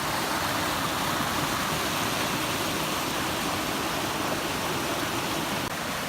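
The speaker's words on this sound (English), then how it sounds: "You found Laurel Falls." Laurel Falls in the Great Smoky Mountains pours in a steady, broad rush of falling water, loud and close, continuing unbroken with no voices over it.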